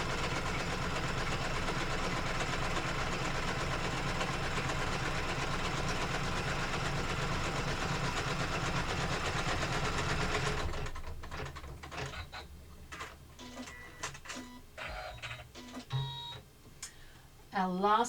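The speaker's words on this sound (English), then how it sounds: "we do a gorgeous little triple stitch on that, just to make sure that it's firmly in place" An embroidery machine sews a triple stitch while making an in-the-hoop wallet, running with a steady, rapid mechanical chatter for about ten seconds before stopping, followed by quieter clicks and handling sounds.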